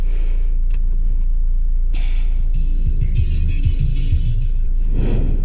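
A 2018 Toyota Fortuner heard from inside the cabin in city traffic, with loud low engine and road rumble throughout, a few soft clicks and brief rustles, and a rise in engine noise near the end.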